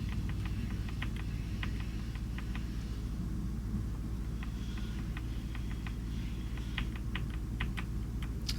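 Bursts of typing on a computer keyboard, clusters of soft key clicks with short pauses, over a steady low rumble.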